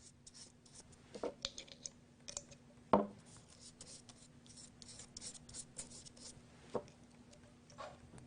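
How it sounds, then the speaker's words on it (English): Rubber cement brushed across the back of paper over newspaper, a quiet scratchy rubbing with intermittent strokes and a few sharper scrapes, soft and close, no voices. "Some more glue across the back."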